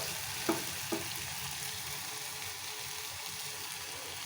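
Soya chunks (meal maker) frying in a pan with onions, giving a steady quiet sizzle throughout, with a couple of faint clinks near the start.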